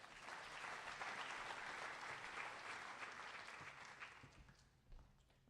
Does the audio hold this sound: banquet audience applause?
yes